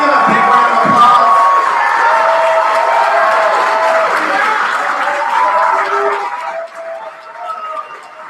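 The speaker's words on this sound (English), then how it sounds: "Can we give them a big round of applause?" Crowd applause at a debate tournament award ceremony, a loud, continuous wash of clapping and cheering with voices mixed in, fading somewhat near the end.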